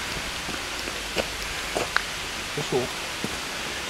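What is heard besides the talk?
rain falling on leaves in a forest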